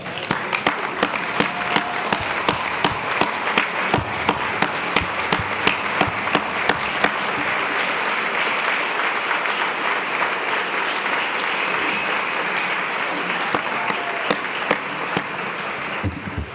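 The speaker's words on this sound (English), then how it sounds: "give a round of applause to our leader" A roomful of guests at a lifetime achievement awards dinner gives sustained applause for a colonel, dense and even for over sixteen seconds, with a few sharper individual claps standing out near the front.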